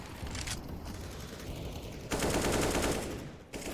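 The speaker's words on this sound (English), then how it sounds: "finding a little bit more damage, especially through that wall bang" Sustained automatic gunfire from a team-based tactical shooter match, with rapid bursts that continue through about two seconds and then grow louder and denser as rounds penetrate a wall, ending in a brief pause and one final burst.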